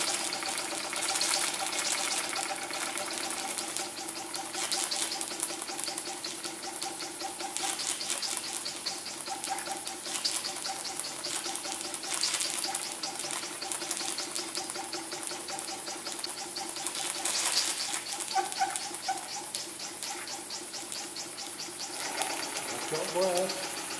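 A Cyldon 13/2 model steam engine running on steam, a fast, even chuffing and hiss that carries on steadily throughout, close and moderately loud, with faint talk in the background.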